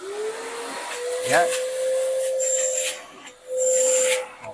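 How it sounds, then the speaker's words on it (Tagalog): Vacuum blower running, a steady whining hum with airy hiss that rises and dips as it is worked, while someone speaks briefly over it. "Sinamahan din niya ng vacuum. Vacuum blower."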